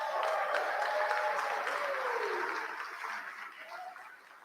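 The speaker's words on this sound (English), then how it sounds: "So give them a round of applause." An audience at the ELEVATE 2022 event applauds its sponsors, a steady wash of clapping that swells and then slowly fades, with faint voices underneath.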